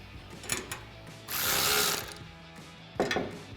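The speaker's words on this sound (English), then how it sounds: "we're gonna tighten that down with our 5mm Allen and our 13mm wrench" Bolts on an aluminum roof rack for a 2024-2026 Toyota Tacoma being tightened with a 5mm Allen key and a 13mm wrench, giving a few close ratcheting clicks and metallic scrapes in short bursts, with no talk.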